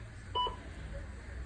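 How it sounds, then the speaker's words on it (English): A baby bottle scale gives a single short double beep, faint and close, over quiet room background while formula is measured. "mine's beeping every half an ounce"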